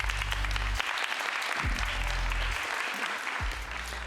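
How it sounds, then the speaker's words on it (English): An audience claps to welcome a speaker at a healthcare artificial intelligence talk, with dense, steady applause filling the room throughout and a low hum underneath. "please big applause for Luis"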